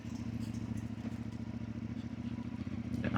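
A CFmoto 450 MT motorcycle rides along on a cold February day, its engine a steady low throbbing drone with a few faint clatters and a slight swell near the end.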